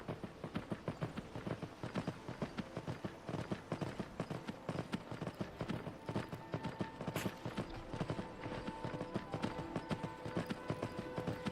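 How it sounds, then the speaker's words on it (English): Horse hooves clip-clop in a steady, rhythmic gait while riding through Whiterun in the Skyrim VR video game. The sound is close and continuous for the whole stretch, with no talking. "Because it's not usual to be riding a horse in Whiterun."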